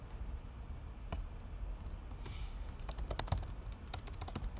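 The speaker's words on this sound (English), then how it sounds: "Anybody still typing?" Someone types on a computer keyboard during a coding session, making soft, irregular clicks and taps at a steady pace. The sound is faint and close, with no talking.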